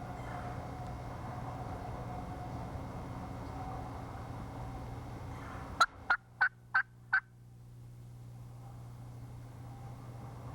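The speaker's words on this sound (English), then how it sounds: "The gobbler had already committed and was coming in." A wild turkey gobbler in spring woods sounds off with a quick run of five sharp, loud gobble bursts in close succession, cutting through steady low background hiss before the woods fall quieter.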